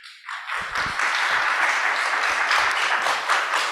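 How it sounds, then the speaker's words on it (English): Conference audience at a science event gives a round of applause, clapping building quickly after a short pause and holding steady, moderately loud. "can I incentivize you to give these people another good round of applause?"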